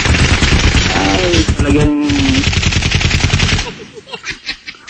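Gunfire sound effect in a rapid continuous burst of close, loud shots lasting several seconds, with a voice speaking over it briefly before it cuts off.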